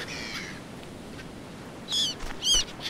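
Birds call in the survival game Stranded Deep: a short harmonic cry at the start, then two louder, sharper calls close together near the end, all over a steady soft ambient hiss with no talking.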